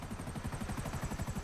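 A helicopter in GTA Online gives a steady, rhythmic rotor chop, loud and close, pulsing evenly throughout with no voices.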